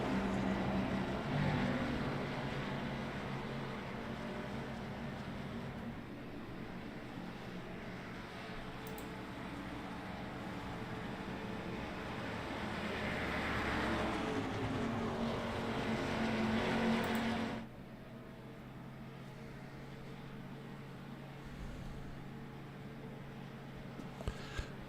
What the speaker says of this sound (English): let us enjoy the sounds of race cars